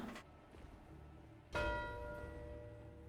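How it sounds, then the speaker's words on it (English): A single bell-like ding sounds from a streaming setup's notification, a bright struck tone that rings out and slowly fades, fairly quiet and alone. "Let me turn the bell back on."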